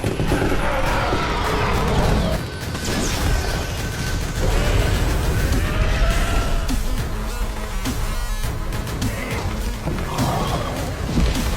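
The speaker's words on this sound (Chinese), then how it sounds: "立刻开火。" Film battle scene with soldiers opening fire on dinosaurs: dense bursts of gunfire, booms and crashing impacts layered over a dramatic score, loud and chaotic throughout, with a voice narrating over parts of it.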